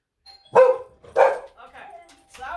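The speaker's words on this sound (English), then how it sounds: "So him actually barking was an acceptable behavior." Dog barking at a real doorbell ring and visitor at the door, two loud sharp barks followed by softer vocal sounds and another bark, alone without talk.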